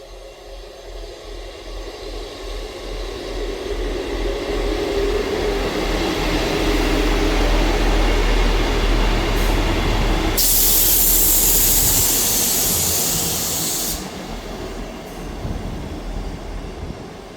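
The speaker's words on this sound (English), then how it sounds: "Departing out now is the 11:40 Scotrail service from Perth to Edinburgh Waverley." ScotRail diesel unit 158703 on the Perth to Edinburgh Waverley service pulls into and away from a station, a loud close rumble of engine and wheels that swells, peaks with a hiss of air, then eases off.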